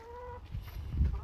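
A white chicken of a rare breed gives a short cluck, brief and moderately close, over faint outdoor background noise.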